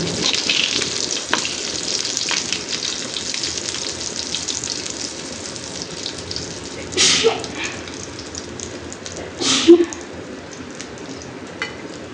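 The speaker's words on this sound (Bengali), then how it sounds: "এক সাইড ভাজা হোক তারপর আর এক সাইড করবো। এক পিঠ ভাজা হয়ে গেছে, আমি উল্টে দিতে আছি।" Pointed gourd and beef fry in a pan with a continuous close sizzle, broken by a couple of short clattering bursts as pieces are turned.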